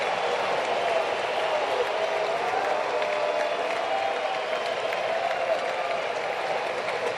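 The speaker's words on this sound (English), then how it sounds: "Listen to the crowd in Atlanta." A steady crowd roar fills an Atlanta baseball stadium during a Cardinals vs Braves game, a continuous distant wash of cheering and applause at even level throughout.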